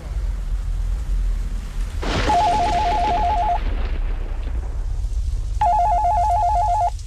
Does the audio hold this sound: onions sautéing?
no